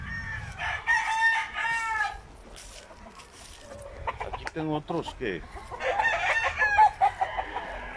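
Gamecock roosters crow at a breeding farm in Guamuchil, Sinaloa, several long crows rising near the start and again near the end, with clucking and other birds around, while people talk quietly in between.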